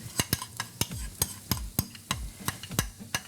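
Omelette mixture cooking in a frying pan, with sharp, evenly spaced clinks and scrapes of a utensil against the pan over a light sizzle, close by and rhythmic.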